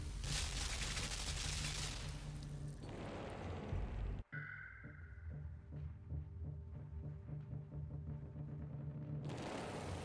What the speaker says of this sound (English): Machine gun goes off straight away